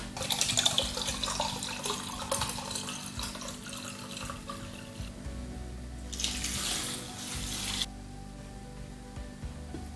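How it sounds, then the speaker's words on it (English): White wine poured into a measuring cup in a home kitchen, a steady close liquid stream with splashy bursts that stops and restarts, alone without talk. "Last is the wine for poaching."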